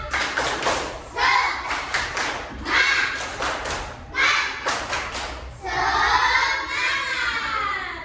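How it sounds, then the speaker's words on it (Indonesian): A group of children in a classroom does a rhythmic spirit clap in bursts of quick, loud, patterned claps separated by short gaps, ending with a stretch of shouting and chanting voices. "Mari kita tepuk semangat."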